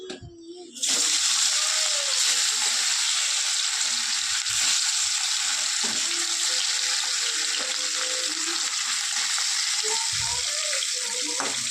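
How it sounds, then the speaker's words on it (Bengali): Katla fish pieces frying in hot oil, turned from one side to the other, give a steady close sizzle that fills the clip after a brief quieter start, with a few small crackles and utensil clinks. "মাছটা এপিট ওপিট করে ভেজে নিই"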